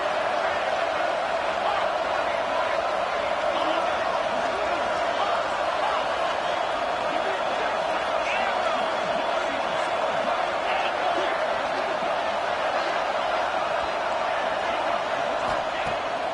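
A large college football stadium crowd roars steadily on third down, a continuous wash of distant cheering and noise with no breaks.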